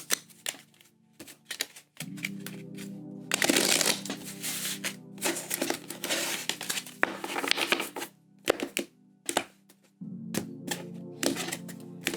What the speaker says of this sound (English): One last shuffle here for you, Cap.